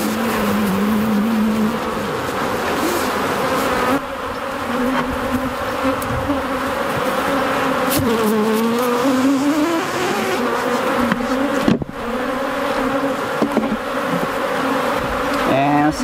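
Honey bees swarm in a dense, continuous buzz after being brushed off a hive frame during honey collection, the drone loud and close with pitch wavering as the disturbed insects fly around for the whole stretch.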